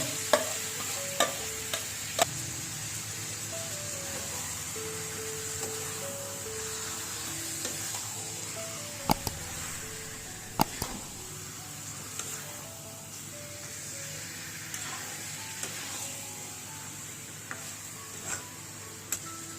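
Marinated chicken fries in a pot for chicken kacchi biryani, with a soft, steady sizzle broken by scattered sharp clicks and scrapes of stirring, close and fairly quiet.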